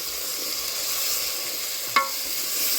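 Shrimp frying in a pan give a steady bright sizzle, and a splash of added water brings one brief sharp hiss near the end. No voices are heard.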